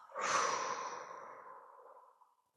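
A single long, breathy exhale during a guided meditation, soft and close, swelling quickly and then trailing off slowly over about two seconds with no talking.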